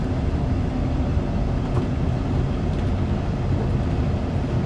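High-speed train braking hard on the Southeastern High Speed route between Faversham and St Pancras in Train Sim World 2, a steady dense rumble with rolling rail noise that holds level throughout.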